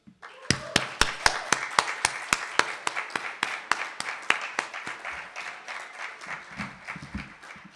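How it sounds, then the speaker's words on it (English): Audience applause at a jazz awards gala, a sustained round of clapping with sharp rhythmic claps up front over a softer crowd wash that gradually thins out. "everybody give a round of applause for our in-service awardee, Mr. Carroll Dashiell."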